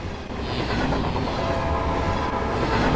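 A train rolls past in the horror video game Bear Haven Nights 2, a steady, fairly loud rumble of wheels and cars with no talking over it.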